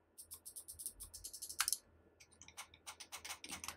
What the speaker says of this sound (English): I'm not a fan of these really loud clicky buttons.